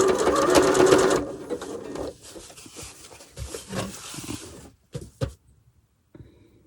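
A sewing machine stitches scrap fabric, running hard for about a second before slowing into shorter, uneven bursts and stops, close and fairly loud, with soft handling noises between.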